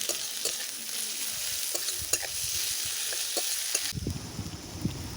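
Garlic paste sizzles in a hot pan of oil while it is stirred and scraped, with a steady frying hiss and intermittent utensil clacks that turn into heavier, bubbling stirring near the end. The cooking is for a rustic Bengali-style meat curry.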